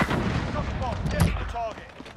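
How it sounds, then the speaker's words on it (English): Explosions and gunfire in an online shooter video game, with dense booming bursts and sharp shots layered over game noise and faint voices throughout. "Watch out for the car explosions."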